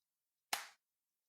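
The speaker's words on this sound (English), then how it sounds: "that was the weakest fucking bitch clap I've ever heard in my life" A single weak hand clap made close to the microphone, a short sharp smack that fades quickly, alone in otherwise quiet surroundings.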